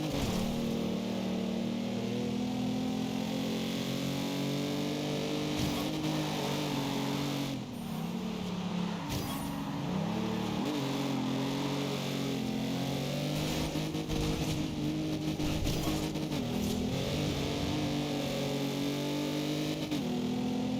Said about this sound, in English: Love those turbo sounds though.